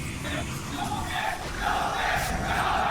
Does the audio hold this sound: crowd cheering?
yes